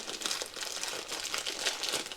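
A small plastic accessory bag for a bike smart taillight crinkles continuously and fairly close, a dense rustling with no speech.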